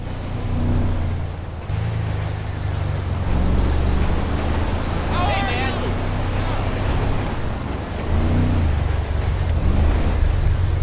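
Low engine rumble and churning water wash, with waves lapping under a steady hum of passing boats at a port in the video game GTA 5.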